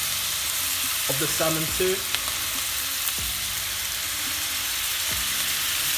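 Honey jerk sauce sizzles steadily onto salmon frying in a pan, a continuous hiss with a few clinks and scrapes of a utensil, while a voice talks briefly over it.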